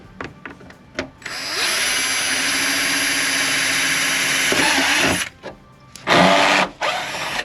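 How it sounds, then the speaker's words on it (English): A power drill drilling a hole in a BMW bumper whines steadily for several seconds, close and loud, preceded by a few taps and followed by short bursts of drilling. "we're just going to drill this hole out that we just put a location mark on"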